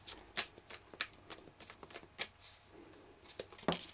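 Tarot cards are shuffled and drawn close up, giving a series of quick riffling flicks and soft slaps at an irregular rhythm with no voices.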